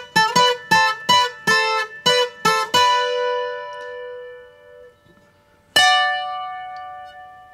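Requinto guitar plays a two-string figure: seven quick plucked double-stops in a steady pulse, a long ringing decay, then one more struck chord left to sustain. The guitar is heard alone and close.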